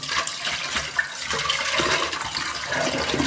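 A kitchen towel rinsed by hand in a basin of clean water, with continuous sloshing, splashing and dripping close by, steady throughout and no voices.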